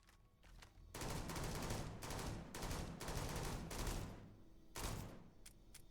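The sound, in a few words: Halo Infinite BR rifle gunfire in Starfield video game mod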